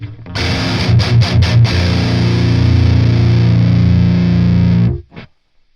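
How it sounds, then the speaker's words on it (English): Heavily overdriven electric guitar chord, played through the boost side of a Revv Tilt overdrive pedal, rings out loud and sustained after a few quick chugs, then cuts off abruptly. "where we're just going to turn on the boost part, the boost side of the pedal"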